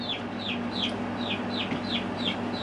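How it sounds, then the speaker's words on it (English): Chicken giving a steady series of short, repeated calls at a regular rhythm, moderately close, over a constant low mechanical hum with no talking. "So. It's a chicken."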